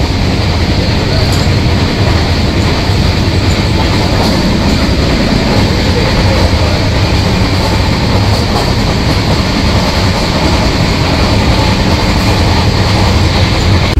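A 12664 Howrah SF Express rolls at speed after leaving Tiruchirappalli, heard from inside a 2AC coach as a loud, continuous rumble with steady wheel-and-rail clatter and no talking.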